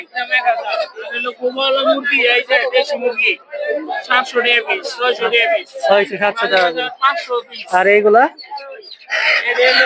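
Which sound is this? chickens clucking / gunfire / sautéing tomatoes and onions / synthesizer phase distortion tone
chickens clucking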